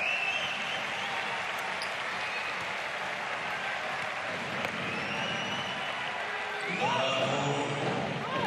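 A basketball arena crowd at a Hapoel Jerusalem versus Bakken Bears Champions League game keeps up a steady, distant roar of applause and cheering, with a commentator talking over it.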